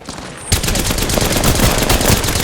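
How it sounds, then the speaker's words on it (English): Rapid automatic gunfire in an Apex Legends match, a dense loud burst of shots starting abruptly after a short quiet lead-in and continuing to the end. "I'm getting shot at"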